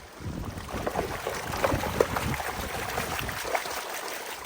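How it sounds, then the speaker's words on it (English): Gold pan shaken back and forth in creek water, giving a continuous rhythmic sloshing and swishing of water and gravel, close and moderately loud over outdoor wind noise, with no speech. "agitate the pan, shake it back and forth"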